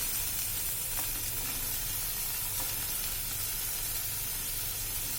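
Stuffed bitter gourds sizzle steadily in oil in a pan, a soft even crackle with faint stir-like scrapes and no talk.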